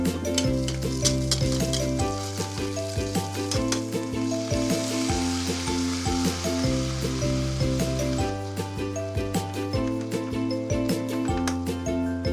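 Pure Foods corned beef frying and simmering in a pan, a steady loud sizzle with rhythmic stirring scrapes throughout, close up and without talk.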